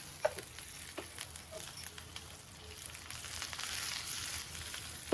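Vadagam, dried red chillies and curry leaves frying in gingelly oil give a continuous crackling sizzle with scattered pops, close by and building slightly louder toward the end, with no talking.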